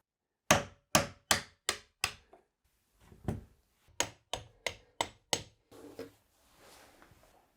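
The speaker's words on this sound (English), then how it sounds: "Using a hammer and an awl, I'll go ahead and remove the hinge pins." Sharp metallic taps of a hammer on an awl knocking out door hinge pins, about a dozen in quick clusters of five or six, close and loud, with a light scrape near the end.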